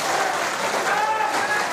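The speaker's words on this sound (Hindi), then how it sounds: "ताली क्यों नहीं बजेगी?" A devotional gathering's audience claps together, a dense, steady wash of applause sustained for almost two seconds, with voices mixed in beneath it.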